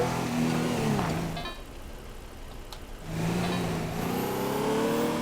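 A car races along a track in Teardown, its engine droning steadily and rising in pitch, dropping away briefly mid-run before surging back to a loud, revving hum.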